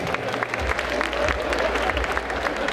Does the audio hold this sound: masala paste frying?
no